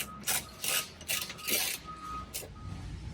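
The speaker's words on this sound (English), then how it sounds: "Then with your 16mm socket, tighten these straps up." Ratchet wrench with a 16mm socket tightening the strap nuts on a 52-gallon replacement fuel tank under a 2014-20 Ram 2500 Cummins 6.7L, several short bursts of rapid clicking separated by brief pauses, close and fairly quiet.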